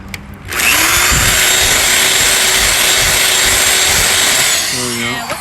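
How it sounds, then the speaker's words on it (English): A drill bit bores steadily through the plastic radio bezel of a 2004 Dodge Ram during an aftermarket bezel replacement, making one continuous loud whine of about four seconds that stops abruptly, with brief talk nearby. "what size drill bit are you using to do that?"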